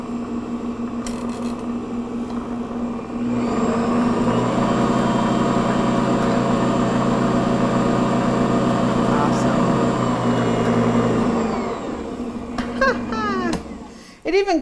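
Ankarsrum stand mixer with a spinning bowl runs as a steady mid-pitched motor hum for several seconds, with brief speech before and after.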